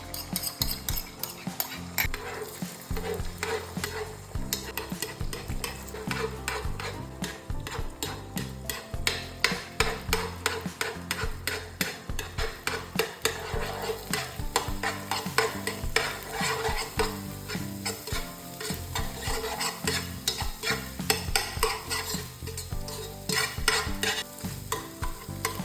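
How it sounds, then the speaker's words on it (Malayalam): Beaten chicken eggs sizzle and fry in the pot later used for frying rice, while a utensil scrapes and clatters against the pan in a quick, continuous stirring rhythm with no talking. "കോഴിമുട്ട ആദ്യം ജസ്റ്റ് ഒന്ന് ബീറ്റ് ചെയ്ത് അരി വറുക്കാൻ ഉപയോഗിക്കുന്ന പാത്രത്തിൽ"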